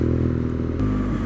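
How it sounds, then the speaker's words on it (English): A mapped 2019 BMW R nineT Scrambler motorcycle idles and burbles through its exhaust with a loud, steady, deep low rumble, heard close and alone. "Oh, the tone of that exhaust is just exquisite."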